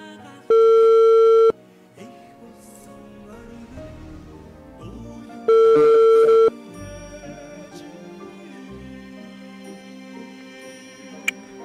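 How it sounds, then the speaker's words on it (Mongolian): A telephone call ringback with two long, steady tones about five seconds apart, loud and close, heard over quiet background music. "утас руу дуудлага хийж байна."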